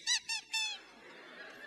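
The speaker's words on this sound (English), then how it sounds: "You squeak the chicken the same time as you shake the rattle." A rubber chicken toy honks three times in quick succession, loud, bright, nasal squawks from its squeaker, then falls off to a quiet room hush during a live touring magic show.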